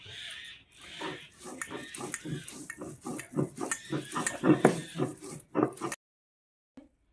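Dried shrimp ground slowly by hand on a small stone grinding slab, with close, rhythmic scraping and thudding strokes repeating steadily for several seconds before stopping abruptly.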